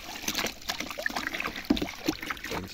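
Old water is tipped out of a chickens' water container outdoors, making a short sloshing trickle and splash at close range.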